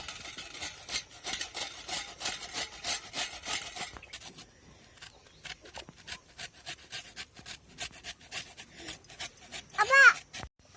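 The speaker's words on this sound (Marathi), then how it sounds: "अशी कैरी पूर्ण किसून घेणार" Raw green mango is grated by hand for a sherbet, giving close, loud, rapid rasping strokes for about four seconds, then sparser scraping strokes with a brief sound near the end.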